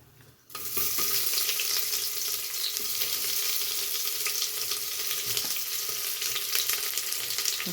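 Onions frying in oil in a pan with bay leaf and spices for palak paneer, a loud steady sizzle that bursts in as they hit the pan and continues unbroken, with no talking.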